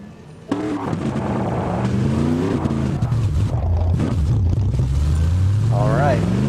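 Race cars roar out onto the track at Laguna in a racing video game, engines droning and shifting pitch steadily under someone talking throughout.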